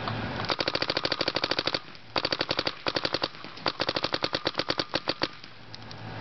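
A Bob Long Vice paintball marker fires in rapid bursts of sharp pops, several quick strings separated by brief pauses, close and loud with no talking.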